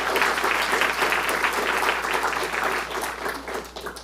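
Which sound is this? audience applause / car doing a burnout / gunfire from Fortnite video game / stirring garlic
audience applause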